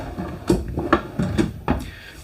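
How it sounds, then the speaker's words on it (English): Soft-closing kitchen drawers in a Forest River Wildwood destination fifth-wheel RV glide shut with several muffled thumps and low rumbles spaced about half a second apart, close by and moderate in volume. "these are soft closing drawers"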